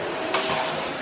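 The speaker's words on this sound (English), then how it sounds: "My poor little poppet's a bit scared of the vacuum cleaner." A vacuum cleaner runs loud and close, a continuous motor whine and rushing airflow throughout.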